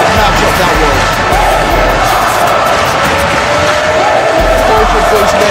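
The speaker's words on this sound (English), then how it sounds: "Listen to this crowd giving appreciation to both of those men in this matchup" A large wrestling event crowd roars and applauds continuously after a match, a loud, dense wash of cheering and clapping with stomping thuds, under a commentator's voice.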